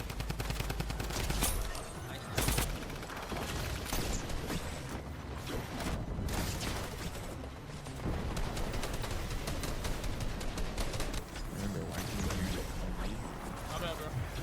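Rapid automatic fire from a drum gun in a fast-paced shooter game, dense bursts of gunfire running almost continuously with loud game action and effects layered over it.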